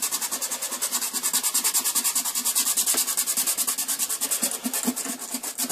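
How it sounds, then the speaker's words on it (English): Sandpaper rubs back and forth over filler on a model kit's seam line in quick, even strokes, a close, rhythmic scratchy hiss with no voices. "So you want to get it all sanded off, and all that should remain is what's in the seam line."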